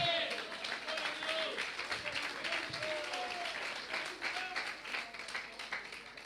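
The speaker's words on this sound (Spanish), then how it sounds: "Dale un aplauso al Rey del Cielo" Applause from a church congregation during a Spanish-language sermon, a steady ripple of clapping that carries on for several seconds, fairly soft and blended with background crowd noise and some voice.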